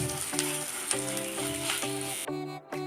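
Grated beetroot frying in a pan for a Bengali beetroot bharta, a steady close sizzle with faint stirring, alongside a recurring low musical tone that runs under it until a brief drop near the end.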